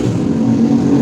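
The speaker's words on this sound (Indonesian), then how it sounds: "tadi ada suara motor ya" A motorbike engine droning steadily and loudly nearby, a continuous low hum with a slight rise in pitch, heard alone without speech.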